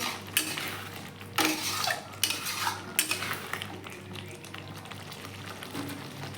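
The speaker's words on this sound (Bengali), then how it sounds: "একটু গরম মশলা গুঁড়ো দিয়ে আবার নেড়ে ছেড়ে একটু মিশিয়ে নেব" A metal spoon stirs a Bengali prawn curry in a pan after garam masala powder goes in, with close clattering scrapes in short bursts over a low, steady background hum and faint bubbling.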